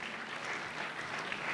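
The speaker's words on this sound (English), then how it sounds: "Let's give her a round of applause." Applause from the audience at a national science communication final in Malaysia, welcoming a speaker to the stage; an even wash of many hands clapping, faint and distant, steady for the whole stretch.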